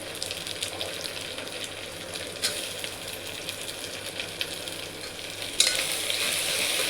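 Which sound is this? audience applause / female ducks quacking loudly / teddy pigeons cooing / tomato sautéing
tomato sautéing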